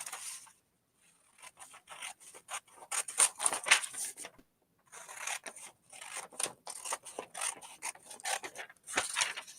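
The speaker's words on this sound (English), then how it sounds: "Let me cut this apart and show you." Scissors cutting apart a paper bra cup pattern, heard as close, soft snipping and crisp paper rustle in two steady runs separated by a short pause, with no talking.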